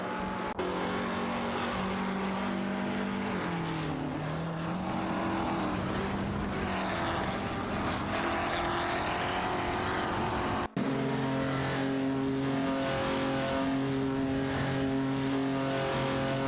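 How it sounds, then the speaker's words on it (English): Race cars racing and overtaking in a racing video game, including a Holden Monaro GTS and a Lancia Stratos: continuous loud engine drone with pitch rising and falling as cars accelerate and pass, and no speech. "Sidrek skillfully overtakes Chalu, climbing up to 16th place in the race."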